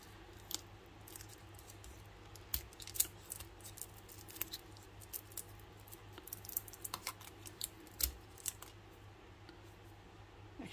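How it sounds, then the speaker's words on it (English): Sticky tape being peeled off a repaired sewing machine spool pin, a quiet run of small crackling rips and scratchy ticks in an irregular rhythm, close by with no talking. "all I've got to do now is take off all this tape and clean it up a bit"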